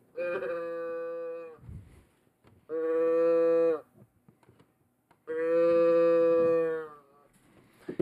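Three long, loud cow moos from the Coole Kühe cow-joke children's card game, each lasting about a second, separated by short gaps with faint background noise.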